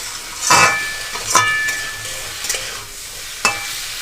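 Potato, onion and tomato frying for Tengra fish jhal over low to medium flame, a soft steady sizzle broken by a few scraping stirs and light utensil clinks against the pan, close up and without speech.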